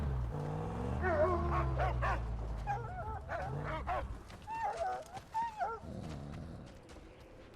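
A dog in the Mad Max video game barks, yips and whimpers in a string of close, clear calls, with quieter gaps between the bursts.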